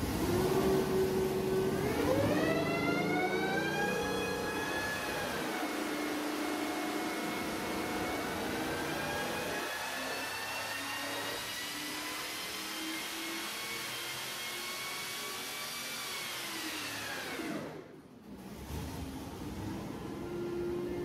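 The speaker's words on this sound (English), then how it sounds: "we ran the AMR500 supercharger on the engine dyno" An AMR500 supercharger blower fitted with a smaller inlet and outlet, driven by an engine on a dyno, gives a loud, whining drone that climbs in pitch, holds steady, then drops off near the end.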